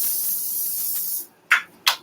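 Coconut oil spray hissing steadily from a can onto a baking sheet for just over a second, then stopping, followed by two brief sharp sprays close by.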